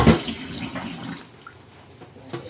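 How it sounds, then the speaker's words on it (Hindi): Rice being rinsed in water in a home kitchen while preparing chicken mandi biryani, with a brief splashing burst at the start, then softer swishing and trickling that fades to quiet, plus a faint clink near the end. "हम चावल को 2-3 बार कर करके अपने धो लेंगे।"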